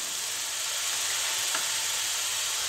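Soy sauce and other sauces hitting sautéed vegetables for Chinese fried rice in a hot pan, giving a steady, close hiss and sizzle throughout with a brief sharper crackle midway, no voices.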